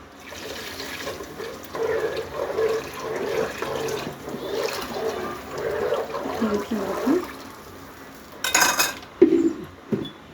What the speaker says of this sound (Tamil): பிறகு சிறிதளவு தண்ணீர் ஊற்ற வேண்டும்.